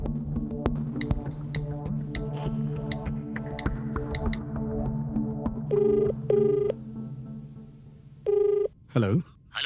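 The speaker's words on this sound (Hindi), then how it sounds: "हेलो, ये नंबर श्रावणी का है क्या?" A telephone rings in a Hindi-dubbed romance film, several short bursts of its ringing tone spaced apart over a steady low hum and background music.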